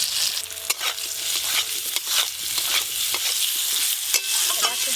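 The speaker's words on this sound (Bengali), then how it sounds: "আমটা ভালো করে ভেজে নিয়েছি" Chopped raw mango sizzles loudly in a pan with mustard oil, dried red chilli and five-spice seeds, stirred with frequent scraping clicks of a spatula over a continuous close fry.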